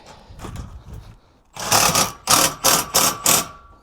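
A Milwaukee power tool torques solar panel mounting bolts on a roof, heard as a few quiet mechanical bursts followed by a run of loud, rapid impact-like rattling pulses, close by.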